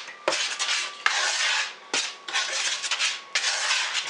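A spoon scrapes and rubs around a bowl, mixing dry flour, salt and baking powder for Christmas and Valentine's biscuits, in several long gritty strokes separated by brief clinks against the bowl.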